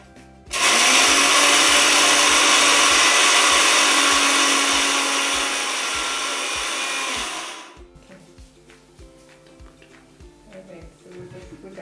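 A kitchen blender grinds salad ingredients for a cooking class, a loud steady whirring roar that starts abruptly, runs about seven seconds while easing slightly, then cuts off, leaving faint clatter and low rhythmic thumps.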